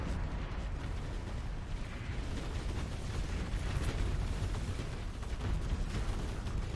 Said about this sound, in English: Siege cannon firing right into them, but just hitting the wreckage of another ship and exploding